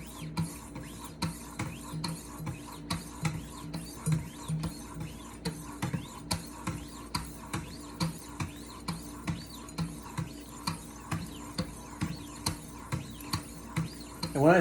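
Long kitchen knife sharpened on a guided stone, with regular rhythmic scraping strokes repeating about twice a second, quiet and close, alone without talk.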